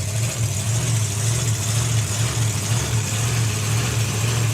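A drag racing car idles at the Springspeed Nationals 2025 drag racing meet, with a loud, steady, close engine rumble and a deep, even throb that holds without revving.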